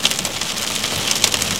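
Heavy rain with hail from a supercell thunderstorm in Athens, Michigan, falling on a roadway: a steady, dense hiss of downpour with scattered sharper pattering hits, loud and continuous, with no talking.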